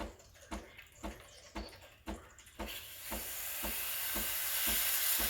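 Steam wand of a Breville Barista Express BES870 espresso machine warming up, first a series of rhythmic soft pulses roughly every half second, then building into a rising, sustained hiss as it spurts water and steam.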